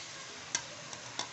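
Tomatoes and chopped green chillies go into frying chicken karahi, giving a faint steady sizzle broken by a couple of soft stirring knocks, quiet and without voices.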